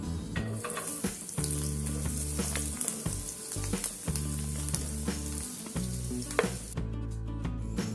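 Garlic fries in hot oil in a pan for a jackfruit seed recipe, giving a steady crackling sizzle that carries on throughout, with occasional stirring clinks, and the sizzle thins out near the end.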